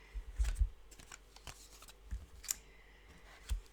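Tarot cards being shuffled close up in a quiet room, giving short papery riffling bursts in a few clusters with pauses between, and no voices.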